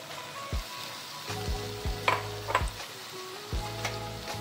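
Five grated boiled eggs hit a pan of cooked-down spice paste and fry with a steady sizzle, along with a few knocks from stirring, close up and with no talking.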